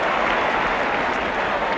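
A large crowd at an Oldham Athletic v Tottenham football match in 1977–78 makes a steady, dense roar of applause and cheering that goes on without a break.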